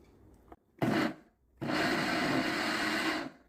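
A blender grinds young radish and baby cabbage for kimchi in two bursts: a short pulse, a pause, then a longer steady whirring run that cuts off abruptly.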